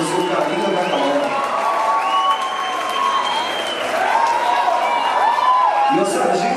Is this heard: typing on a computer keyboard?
no